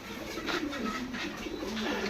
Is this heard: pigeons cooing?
yes